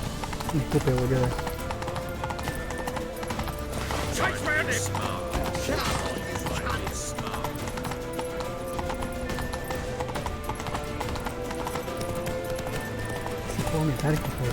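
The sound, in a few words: horse galloping hooves in video game The Witcher 3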